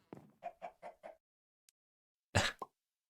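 Minecraft chickens clucking, a run of four quick, evenly spaced clucks, a tiny click, then a louder squawk-like burst and one short cluck, with near silence between.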